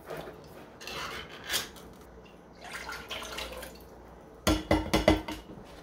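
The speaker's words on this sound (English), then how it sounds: "I'm going to put my pan on here" A metal pan set down on an induction cooktop, a couple of soft contacts early, then a burst of sharp clanking and rattling metal knocks near the end, close by with no talk.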